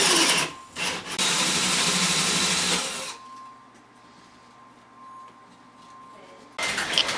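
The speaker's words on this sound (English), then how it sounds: "Here you can see I'm drilling a hole for the faucet into the countertop." Power drill boring a faucet hole into a laundry room countertop: a loud, harsh grinding whine for about two and a half seconds, a quieter steady hum after it, then a final short burst of drilling.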